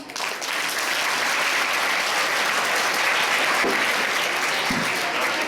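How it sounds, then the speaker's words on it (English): Steady, dense applause from a large audience at a school Children's Day program in Korutla, India, continuous and fairly loud throughout. "Please give them a huge round of applause."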